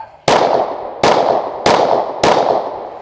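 Shadow Systems DR920 pistol fired four times in a steady rhythm, each sharp loud crack followed by a short ringing decay, close to the shooter with no talk.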